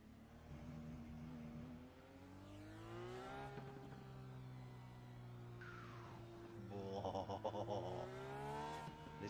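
A Subaru race car in a racing video game revs hard and holds a steady engine drone, its pitch swinging up and down through gear changes, with a brief squeal-like burst near the end.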